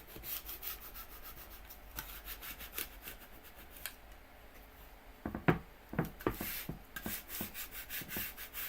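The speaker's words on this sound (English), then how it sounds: "We're going to give this another good scrape." A wood-burning stencil is scraped with a repeated close rubbing, rasping stroke, light and even at first, then in stronger, louder strokes toward the end, with no talking.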